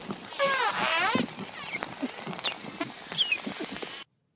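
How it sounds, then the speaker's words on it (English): A dolphin in an ocean recording whistles in rising and falling tones, mixed with rapid clicks and a dense crackling patter, clear and continuous until it cuts off abruptly. "Is this a dolphin? It is a dolphin."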